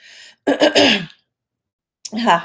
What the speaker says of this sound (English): I'm clearing my throat because there's energy in the throat